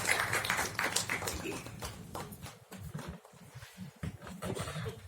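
An audience at a Hindi Divas kavi sammelan in Bhopal applauds to welcome a poet, with dense, uneven clapping filling the room and continuing throughout.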